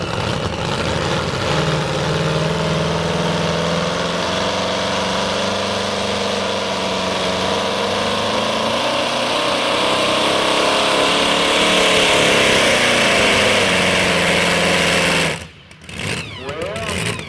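Engine of a roughly 1923–25 Ford truck at a truck and tractor pull, struggling to come up to revs, drones steadily and loudly with a rough mid-pitched hum, briefly dipping near the end.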